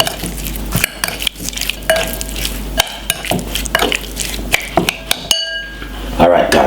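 A spoon stirs Jamaican stew chicken seasoned with browning in a pot, with repeated scraping and clinking strokes against the metal sides and a low simmering sizzle beneath.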